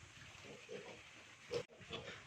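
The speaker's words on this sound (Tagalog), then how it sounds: "Eto nga pala yung palaga kong baboy, 1 month mahigit na sila. Ayan, kanya-kanya silang kain." Month-old pigs eating starter feed at a backyard pen, with soft grunts, snuffling and munching sounds, a brief louder snort or splash midway, fairly close with no talking.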